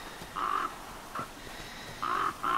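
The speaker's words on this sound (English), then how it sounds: "Freaking crows." Crows caw in harsh, repeated calls in the survival game The Flame in the Flood, fairly close with gaps between each caw and no speech.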